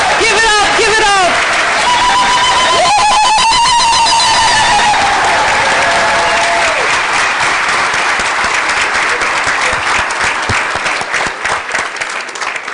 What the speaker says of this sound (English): One last round of applause for all of our 9 amazing women trailblazers.